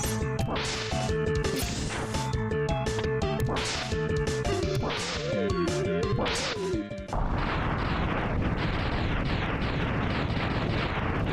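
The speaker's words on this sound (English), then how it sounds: "Now Mega Man is too cool not to be inside explosions." Explosions and impact hits from the Mega Man X video game, a rapid run of crashing blasts and whip-like smacks over busy game music, then a dense, continuous roar of noisy bursts in the second half.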